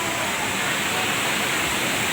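Roaring, steady rush of water falling at the Banting Murung waterfall, a dense broadband wash that stays even and loud from start to finish with no pauses.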